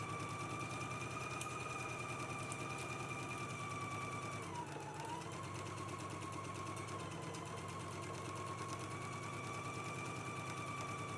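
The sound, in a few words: sewing machine stitching center back seam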